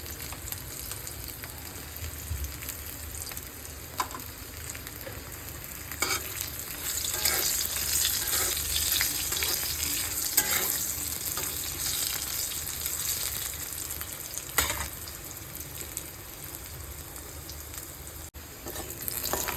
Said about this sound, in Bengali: তো আলুগুলোকে বন্ধুরা ভেজে নিচ্ছি